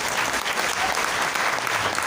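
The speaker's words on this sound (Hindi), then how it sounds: "एक बार जोरदार तालियां इनके लिए।" Dense, steady applause from a seminar audience, many hands clapping at once, loud and close with no break.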